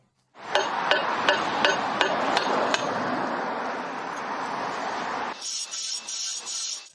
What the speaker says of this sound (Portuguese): Então eu cortei até a metade e bati com um martelo